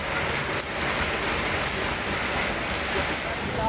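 Rain falling in the Coonoor area of the Nilgiris district hills: a steady, dense hiss of rainfall that stays even and fairly loud throughout, with no clear breaks.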